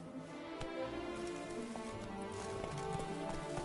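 Roach, the horse in The Witcher 3, gallops with a quick, steady clip-clop of hooves under a soft, wash-like ambient bed, moderately distant and continuous.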